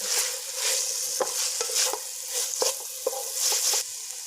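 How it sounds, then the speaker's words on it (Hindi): Chicken and vegetables are stirred in a hot pan, a continuous sizzle with repeated scraping strokes and light clatter of the spoon, close and clear with no voices. "सब्जियां तकरीबन हमारी चिकन में अच्छे से मिक्स हो गई हैं"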